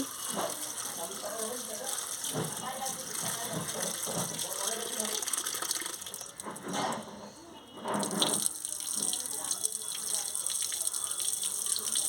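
Tap water runs steadily over cabbage being washed in a sink, a close gushing splash that dips briefly midway, with a person's voice heard faintly over it.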